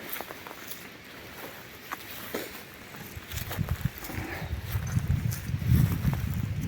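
Horse hooves clop at a slow walk on firm ground, several irregular steps from a mare, foal and stallion, with a low rumbling rising toward the end.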